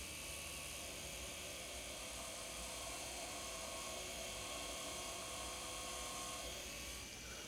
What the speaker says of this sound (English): So we will drill initially